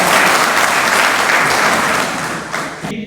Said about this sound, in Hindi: प्रोफेसर अनिल राय जी के लिए एक बार आप जोरदार ताली बजा दें